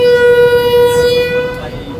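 A large passenger river launch on a broad river at dawn sounds its horn, a loud sustained tonal blast that fades out near the end of the clip.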